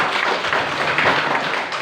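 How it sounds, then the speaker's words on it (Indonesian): A crowd of students at a vocational high school applauds steadily during a visit by Dutch embassy guests, producing a dense, even wash of clapping that stays loud throughout with no voices on top. "Ayo, tepuk tangan dulu sekali lagi."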